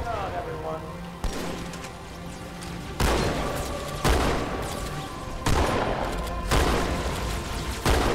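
Shotgun blasts ring out in the video game Halo 2, several loud booming shots at irregular intervals, each with a sharp attack and a lingering tail, layered over game sounds and a constant background din.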